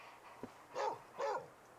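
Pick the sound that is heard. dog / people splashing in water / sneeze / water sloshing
dog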